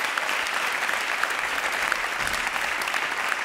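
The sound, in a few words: audience applause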